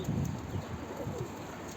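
Several male pigeons coo in low, throaty rolling calls, overlapping steadily at close range against a faint background hum.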